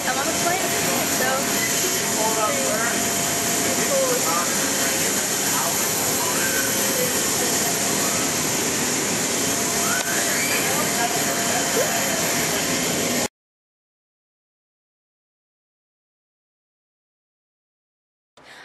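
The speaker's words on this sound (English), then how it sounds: "I'm on the plane" Steady, broad engine roar of an airplane cabin drones for several seconds, with faint background chatter underneath, then cuts off abruptly into silence.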